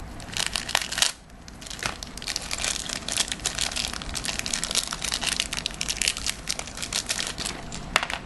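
A sealed plastic package holding a Takara Metal Fusion Storm Pegasis Beyblade being cut and torn open: steady close crinkling and crunching of plastic, loud and continuous with sharp snaps, and no speech.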